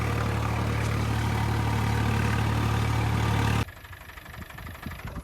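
A tractor engine idles with a loud, steady, droning hum up close, then cuts off abruptly, leaving quieter background noise.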